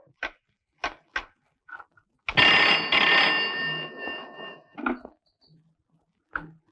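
An old-fashioned telephone bell rings in a domestic scene from a classic Tamil film, a loud sustained burst of about a second and a half, set among short knocks and brief voice sounds before and after.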